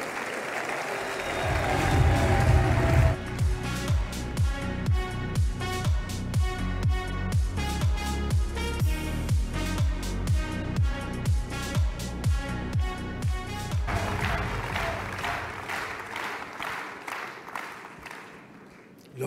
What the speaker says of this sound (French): je vous demande un tonnerre d'applaudissements pour François Bayrou